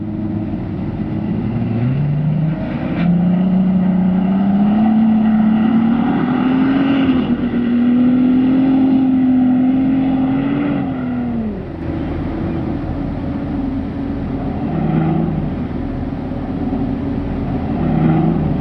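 An SUV climbs the steep face of a dune, its engine droning loud and steady as the revs rise and hold, then ease off near the top, with a rough, rumbling undertone throughout.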